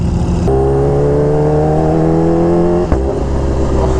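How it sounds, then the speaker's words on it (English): A Kawasaki Ninja H2R superbike engine holds a loud, steady high-pitched drone close by, dips sharply with a gear change near the three-second mark, then climbs again. "Man, this bike sounds good."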